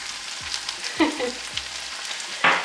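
Manchurian sauce with chili and soy sauce is stirred in a hot pan, a close, continuous frying hiss broken by a few soft utensil knocks and scrapes.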